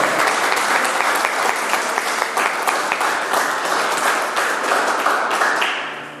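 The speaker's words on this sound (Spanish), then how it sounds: "Un fuerte aplauso, los herederos." A church congregation breaks into loud, dense applause with some rhythmic claps mixed in, sustained for several seconds before tapering off at the end.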